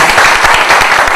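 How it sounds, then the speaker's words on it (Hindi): A crowd at a spiritual talk in Talegaon Dabhade applauds with dense, steady clapping throughout, loud and close. "वेरी गुड, तालियां बजाइए"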